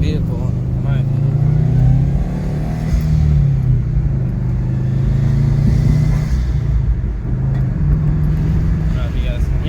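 Subaru WRX engine fitted with a Perrin blow-off valve, a steady loud idle rumble with a slight rise and swell in the middle, running continuously and close by.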